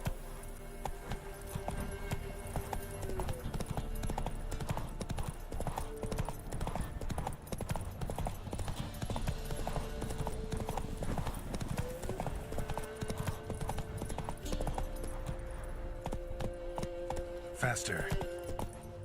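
Roach the horse's hooves clip-clop in a quick, even rhythm across The Witcher 3 landscape under game music, while a person talks over the steady hoofbeats.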